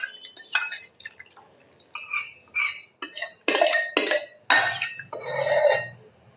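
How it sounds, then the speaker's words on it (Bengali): Water sloshing and splashing in a bowl being rinsed in a home kitchen while making pitha batter, with clinks of the bowl and drips in a series of short, close bursts separated by brief pauses. "বোলের মধ্যে জল নিয়ে নিয়েছি আর বোলটা ধুয়ে এখন দিয়ে দেব।"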